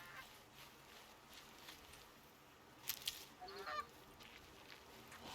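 A wild turkey-like bird in Horizon Zero Dawn gives a few faint honking calls over quiet game ambience, with a short burst of gobbling partway through.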